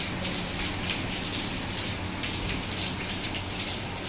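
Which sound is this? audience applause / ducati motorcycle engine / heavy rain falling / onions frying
heavy rain falling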